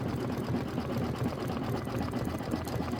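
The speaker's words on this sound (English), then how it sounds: "I've got 7 minutes of stitching left in this." An embroidery machine stitches a chenille pineapple quilt block with a continuous, even mechanical whir and rapid needle rhythm, close and unbroken throughout.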